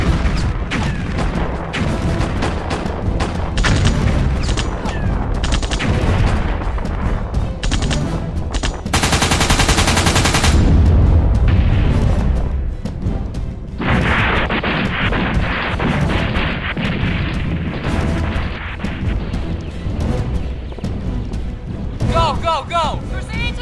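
Rifle volleys, machine-gun bursts and booming artillery at a Vimy Ridge battle reenactment, with rapid overlapping cracks and heavy blasts, a dense, loud barrage running throughout, punctuated by a sharp explosive burst midway.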